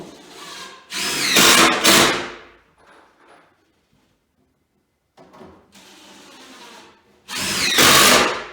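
A power drill drives screws into metal grain bin sheeting in loud, whining bursts of a second or two each, separated by quiet gaps with faint clanks and handling noises.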